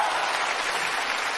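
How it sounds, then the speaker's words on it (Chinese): A studio audience at a crosstalk comedy show claps briefly, a dense, even burst of applause lasting only a moment with no voices over it. "认为我颜值高的，鼓掌。"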